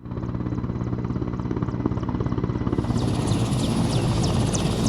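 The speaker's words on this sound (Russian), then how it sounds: "Строго в определенное время на землю приземляется вертолет Минобороны Республики." A Ministry of Defence helicopter lands at a stadium, its rotor thumping in a fast, steady beat with loud engine roar that grows brighter and whinier as it nears the ground.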